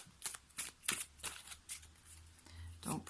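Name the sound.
shuffling oracle cards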